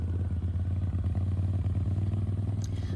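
Motorcycle riding through the Castle Glen neighborhood of Big Bear Lake, a steady mid-pitched engine drone running close and continuous with light mechanical clatter, no voices.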